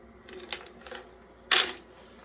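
Tablet friability tester drum turning at 25 RPM with tablets inside: a faint mechanical whir broken by a couple of sharp clattering bursts as the tablets tumble, the second louder.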